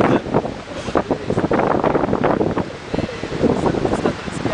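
Wind blowing across a beach at Terracina on a fine day as summer nears, gusting in rough, uneven rushes that buffet the microphone, loud and near, with no clear talk.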